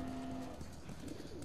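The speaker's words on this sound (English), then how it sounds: "There's literally pet pigeons." Pigeons cooing in The Last of Us, a soft, low, throaty coo rising and falling in short phrases over a dull background hum, close by and with no talk.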